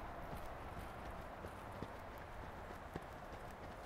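Horse trotting in an arena during a riding lesson, hoofbeats soft and steady under a constant background hum, with a couple of sharper hoof strikes standing out.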